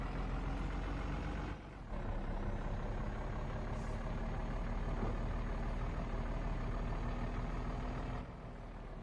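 A loaded truck carrying timber rolls through city streets between buildings, its engine giving a steady, fairly loud drone with a brief dip in the middle and another near the end.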